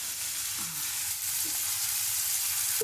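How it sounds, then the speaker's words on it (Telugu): Chopped onion frying in oil in a pan on a stove, a steady, close hiss of sizzling that continues evenly with a few faint stirring sounds. "స్టవ్ కొంచెం తగ్గించుకుంటే ఆనియన్ మాడిపోకుండా ఉంటుంది"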